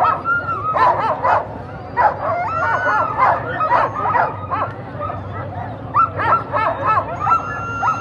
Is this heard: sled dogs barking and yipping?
yes